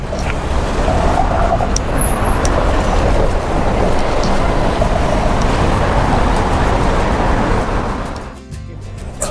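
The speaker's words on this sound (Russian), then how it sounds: "Вот тут трамвай сюда заезжает" A tram pulls in along a Dublin street, a loud, continuous rumbling rush blended with surrounding traffic that holds steady before dropping away near the end.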